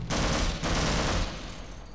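Rapid automatic gunfire in the Half-Life video game, a dense burst of shots lasting over a second before easing into a fading rumble, loud and close.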